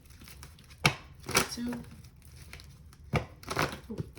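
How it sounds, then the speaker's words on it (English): A deck of cards is shuffled in short, crisp riffling bursts, loud and close, with a spoken count between the shuffles. "let me shuffle 3 times."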